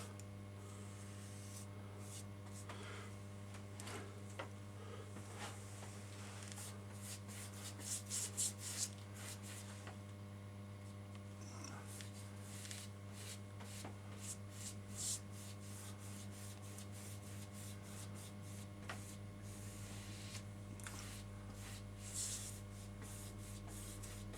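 A brush applies a coat of paint to N gauge model railway platforms, making faint, soft repeated strokes and scrapes close by over a constant low electrical hum, with no talking.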